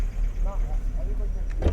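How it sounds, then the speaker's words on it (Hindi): A safari jeep approaches from the front on a jungle track in Jim Corbett National Park's Jhirna zone, a steady engine rumble building near the end, with people talking over it. "चलो एक सामने से गाड़ी आई"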